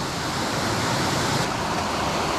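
Stream water in North Georgia rushes and gurgles into a submerged crawfish trap, a loud, continuous broadband splashing flow close by with no pauses.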